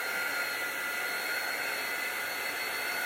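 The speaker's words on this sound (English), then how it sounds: "I am going to use my air dryer and just dry my chalk paste and help speed it up." A hair dryer runs steadily to dry chalk paste on a handmade no-soliciting sign, a constant airy whoosh with a faint whine, close and alone with no talking.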